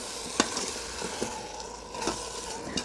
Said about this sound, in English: salt to taste, and just a quick stir